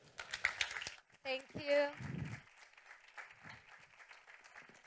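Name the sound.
audience applause for the panel moderator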